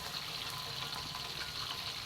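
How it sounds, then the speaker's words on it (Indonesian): Patin fish frying in hot oil in a home kitchen, a steady, even sizzle and crackle with small pops throughout, moderately close and without talk. "Dan ini aku lagi goreng ikan patinnya."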